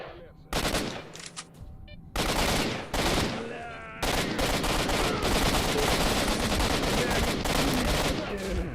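Gunfire in the STALKER video game while shooting down through a floor: bursts of rapid automatic fire broken by short pauses, then a long sustained volley, loud and close.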